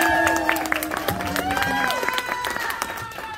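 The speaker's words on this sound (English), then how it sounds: "Everyone, huge round of applause" An audience at a Fanboy Expo Orlando TMNT movie panel claps and cheers loudly for several seconds, with whoops and voices mixed into the steady applause that fades slightly toward the end.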